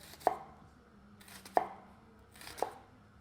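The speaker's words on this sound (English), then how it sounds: "take your onion, turn it this sideways. We're gonna do small, long cuts." A knife dices an onion on a cutting board with three sharp, separate chopping strokes spaced about a second apart, close and fairly quiet, with no talk.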